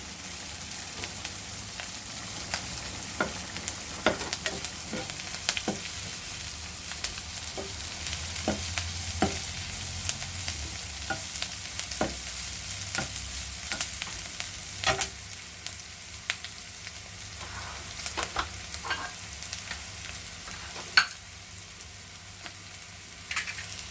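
Green chilies sizzle and crackle steadily in a hot oil pan, with scattered sharp pops rising above a constant frying hiss, close and moderately loud with no talking.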